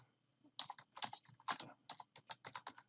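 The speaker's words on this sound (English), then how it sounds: "at the bottom of the screen then we can type in here" Quick, crisp keystrokes on a computer keyboard as a message is typed in Skype on Windows 10, a close, dry patter of clicks in uneven bursts with no voices.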